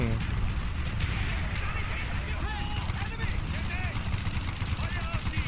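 Gunfire in Call of Duty: Black Ops rattles as dense, continuous bursts at close range, with explosions and battle noise underneath and someone talking excitedly over it.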